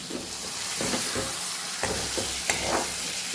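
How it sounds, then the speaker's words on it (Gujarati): Stuffed okra curry, Kathiyawadi bharela bhinda shaak, stirred in a pan with a soft continuous sizzle and a few scraping spoon strokes, close and moderately loud, no speech. "હલાવી લેશું વચ્ચે મેં એકવાર હલાવેલું હલાવી લઈશું પાછું આપણે"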